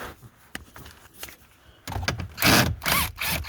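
Hidden bolt being worked loose on a 2001 Chevy Malibu during a power steering torque sensor replacement, heard as faint scattered clicks, then a louder burst of grinding, rubbing metallic ratcheting close by.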